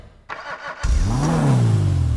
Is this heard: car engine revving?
yes